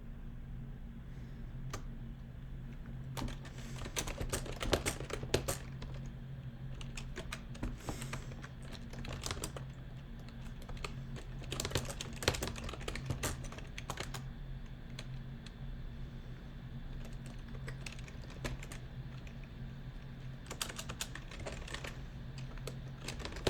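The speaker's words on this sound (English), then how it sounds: "I am typing." Continuous computer keyboard typing, steady clicking keystrokes with irregular rhythm and occasional louder taps over a low background hum, close and fairly quiet.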